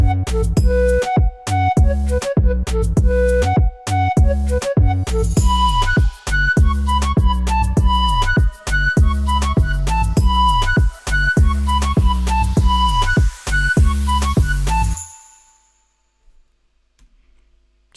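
A basic Moombahton track built in FL Studio, with a loud, heavy bass-and-drum groove under repeating melodic synth notes that play steadily for about fifteen seconds, then stop abruptly and leave near silence.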